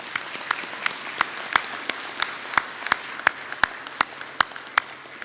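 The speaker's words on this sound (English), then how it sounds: "I'd like to ask for a round of applause for all they've done." Audience at a farm bureau delegate meeting applauds its staff, a steady patter of clapping with sharp individual claps standing out at regular intervals, fairly close and sustained throughout.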